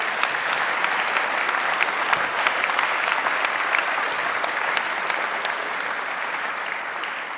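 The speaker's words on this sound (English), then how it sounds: "Let's give them a round of applause." School assembly audience applauds hockey award honorees, including a coach of the year, with steady, dense clapping that holds at an even level throughout.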